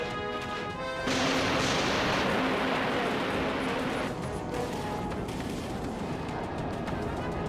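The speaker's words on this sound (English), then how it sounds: "Torpedo away." Torpedo launch and space combat weapons fire in the game Dreadnought: a sudden loud roaring blast breaks in after a moment and sustains as a dense rumbling wash, easing slightly but continuing to the end.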